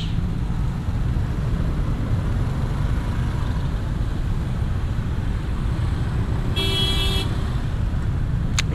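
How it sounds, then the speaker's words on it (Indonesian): A single short car horn honk sounds once over a constant loud rumble of nearby road traffic on the Kopo flyover in Bandung, Indonesia, heard from a motorcycle. "klakson terus."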